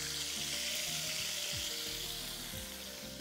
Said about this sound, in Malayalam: ഇനി ഇതിലോട്ട് നമുക്ക് നമ്മുടെ ടൊമാറ്റോയുടെ പൂരി ഇടാം.